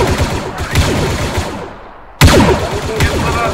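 Blaster gunfire in a Star Wars stormtrooper roleplay game on Tatooine, loud, close bursts of rapid shots, a brief lull, then a sharp renewed volley with overlapping reports.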